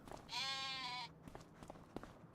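A single drawn-out sheep bleat in Farming Simulator 25, loud and close, quavering for under a second before fading into quiet background rustle.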